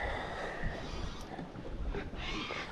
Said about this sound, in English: Bit of wind pumping down the river now.